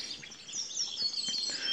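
Bright, rapid high-pitched warbling trills of a wren ring out close by in a park dawn chorus, the song running continuously with other small chirps mixed in.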